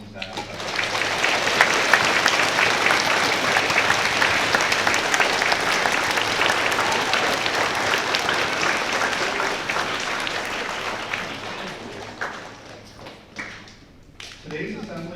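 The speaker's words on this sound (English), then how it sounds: "please join me in a warm round of applause for their service and sacrifice" A school assembly crowd at a Griswold School Veterans Day ceremony gives veterans a long, warm round of applause, thick and sustained before thinning into scattered claps near the end.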